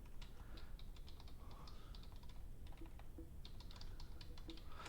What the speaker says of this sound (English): now we type in your name